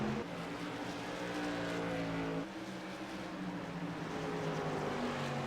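Engine drone from SK Modified race cars on an asphalt oval at South Boston in the iRacing game, a steady loud multi-car hum with sustained harmonic tones that shift in pitch partway through.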